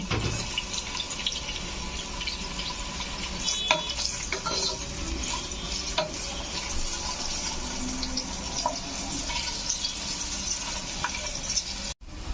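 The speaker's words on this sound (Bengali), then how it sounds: "এখন আমরা যে আলুগুলো নিয়েছিলাম সেগুলো সব একে একে দিয়ে নিচ্ছি। এগুলোকে ভালো মতো ভেজে নেব।" Potatoes fry in oil in a pan for beef dum biriyani, making a loud, steady, close sizzle with occasional scrapes and taps as pieces go in one by one.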